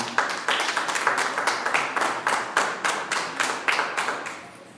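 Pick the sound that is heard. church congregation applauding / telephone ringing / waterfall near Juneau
church congregation applauding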